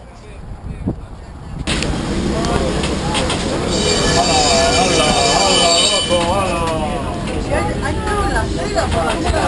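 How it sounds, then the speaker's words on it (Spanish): A Lisbon tram rumbles along its rails through the Alfama district with squealing wheels and clanking, loud and close, while a person talks over the noise. "Este es el tranvía de Lisboa."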